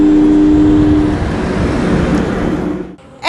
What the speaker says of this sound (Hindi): सन्नाटे को चीरती गाड़ियों की आवाजें ही सिर्फ सुनाई पड़ रही थी